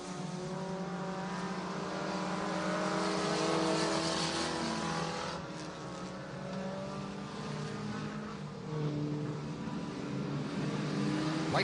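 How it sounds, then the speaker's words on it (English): Mini stock race cars roar around a speedway track at Santa Maria, a dense continuous snarl of several engines revving and passing with rising and falling pitch, loud and steady throughout with no speech. "as we get into mini stock heat race number 2"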